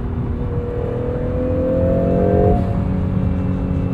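Twin-turbo V6 hybrid engine of a 2022 Acura NSX Type S accelerating from the cabin, a steady loud drone with rising tones that builds and then shifts near the end, with no talk.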